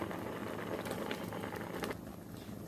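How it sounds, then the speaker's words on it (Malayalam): Rasakalan curry bubbling in a pot, a soft continuous simmer of small pops and gurgles, quiet and close, with no voices. "ഇപ്പോൾ നല്ല പോലെ ഒന്ന് തിളച്ച് വെന്ത് വന്നിട്ടുണ്ട്."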